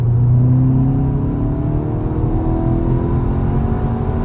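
Used car on a test drive, its warm engine pulling with a loud, steady rising drone and low rumble from inside the cabin, with no talk.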